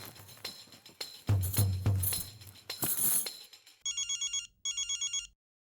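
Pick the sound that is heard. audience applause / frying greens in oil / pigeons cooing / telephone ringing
telephone ringing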